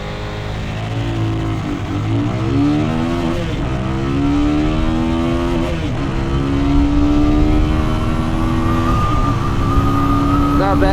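Motorcycle launching hard and accelerating through the gears, loud and close, engine pitch climbing in repeated rising sweeps with brief drops at each shift, running steadily for several seconds.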